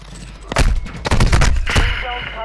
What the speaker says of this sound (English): He just shot at me